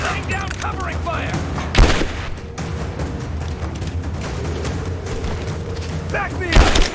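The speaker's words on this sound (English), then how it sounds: "Laying down covering fire!" Covering gunfire in the video game Rise of the Tomb Raider, a steady loud fusillade with two heavier booming blasts standing out near the start and end, set in a noisy battle mix.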